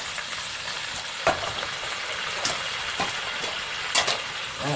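Chinese kale stir-fried over high heat in a wok, a steady loud sizzle with a few sharper bursts as the greens are tossed.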